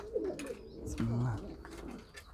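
Pigeons coo at close range, a couple of low, soft throaty calls with faint rustling and quiet background noise.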